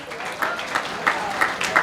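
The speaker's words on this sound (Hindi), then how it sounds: "देखो एक बार जोरदार तालियां" A crowd claps in scattered bursts, the applause modest and fairly close, with voices murmuring underneath.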